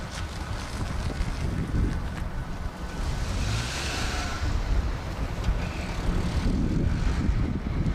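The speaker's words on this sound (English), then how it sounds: "I thought that was what that F-35 was waiting for" An F-35 fighter jet flying at night near RAF Lakenheath gives a steady, broad roar throughout, loud and sustained with a slow swell in the middle and a rise again toward the end, with no talk.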